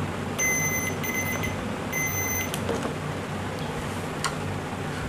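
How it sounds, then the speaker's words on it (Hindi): A multimeter on continuity test beeps while a mosquito bat switch is checked, sounding several short, bright, close electronic tones in quick bursts over a background hum, followed by a few faint clicks and taps. "ये टी टी की आवाज़ से ये पता चलता है, मल्टीमीटर बता रहा है कि हाँ बटन ठीक है"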